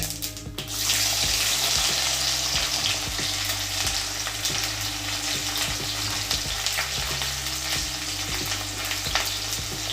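Steady loud sizzling of onions frying in hot tempering oil, with occasional stirring clatter throughout.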